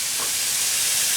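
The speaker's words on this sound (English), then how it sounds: "It's sort of searing the top of it." A steak sears in a hot frying pan, giving a steady, loud hiss and sizzle that holds evenly throughout with no talking.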